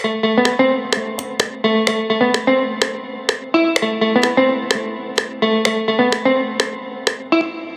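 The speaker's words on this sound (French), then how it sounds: "où il y a une guitare que j'ai joué là." An electric guitar plays a rhythmic, repeating picked pattern for an Afrobeat track made in FL Studio, drenched in chorus and echo effects, each note ringing out with shimmering reverb.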